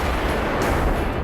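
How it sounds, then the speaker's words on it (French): A huge MythBusters blast destroys a large tanker near a concrete mixer truck, heard as a dense, roaring wall of broadband noise that stays loud and sustained without a break. "C'est la plus grosse explosion de l'émission."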